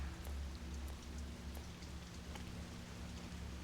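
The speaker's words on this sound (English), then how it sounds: "The rain is still pouring outside." Rain pouring outside in a video game, a dense steady hiss of drops with a low constant background hum, faint and unbroken, no voices.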